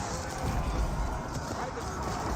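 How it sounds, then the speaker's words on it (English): Horses move around in the Age of Empires 4 video game, their hoof clatter mixing with battle noise in a dense, steady wash of sound. "These horses are starting to move around."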